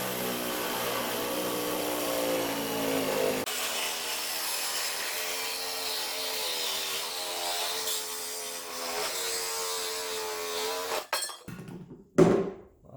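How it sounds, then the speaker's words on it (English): A Sawzall reciprocating saw with a long blade cuts through a metal Jeep bumper, buzzing loud and steady for several seconds before stopping, followed by a few clanks. "Sawzall, nice long blade here that does cut metal also."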